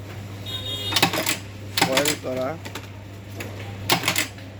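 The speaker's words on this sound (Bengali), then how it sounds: "এখানে একটা গোল্ডের শপিং ব্যাগ হাইলাইট প্রিন্ট হচ্ছে।" A foil printing machine runs in bursts, stamping gold highlights onto a shopping bag with rhythmic mechanical clacks over a steady low hum, while a person talks nearby.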